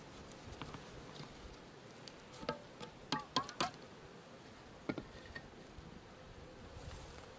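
Carniolan honey bees buzz faintly while a package of them is installed into a hive. The low, steady hum runs throughout, with a few sharp taps and knocks rising above it midway.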